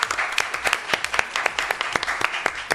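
Lively audience applause at an entrepreneurship talk event, many close individual claps rattling in uneven bursts, loud and continuous.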